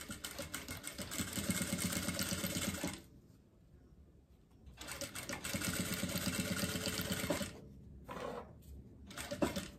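A sewing machine stitches a pocket onto a diaper bag, its rapid needle chatter running in two long close bursts separated by a quiet pause, then a few short stitches at the end, with no speech.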